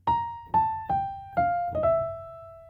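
Clean guitar picks a short blues lick of about six single notes stepping downward, evenly spaced and quietly plucked up close, the final note ringing on and slowly decaying.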